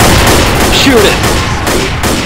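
Gunfire in the video game Left 4 Dead, loud and continuous bursts of shots with players shouting over it.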